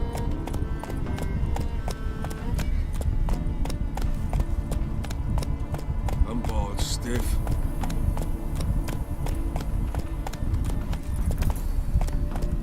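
Horse hooves galloping in the video game The Witcher: a fast, continuous rhythmic clatter of hoofbeats throughout, with a voice talking over it.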